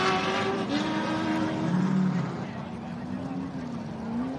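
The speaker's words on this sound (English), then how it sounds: "Callender's car sounds healthy too, doesn't it? Can't really beat a good V8 with a decent gear." A V8 race car at the Gundy 500 roars past loud and close, its engine note rising and falling through the gears with a slight tyre edge, fading somewhat toward the end.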